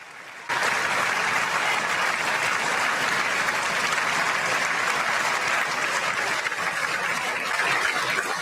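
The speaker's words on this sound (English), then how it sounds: "But the applause kept going, and Trump waited for them to get up." Loud, sustained applause fills the chamber of Congress for President Trump, a dense wash of clapping that starts abruptly and continues steadily without a break.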